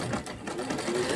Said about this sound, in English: I just put it in, and I'm sewing with about a 1/4 inch seam.